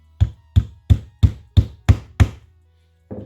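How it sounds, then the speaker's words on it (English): A hammer drives a pin into an airgun piston during piston buttoning: seven sharp, evenly spaced metallic blows in quick rhythm, close and loud, then one softer knock after a pause. "hammer this in"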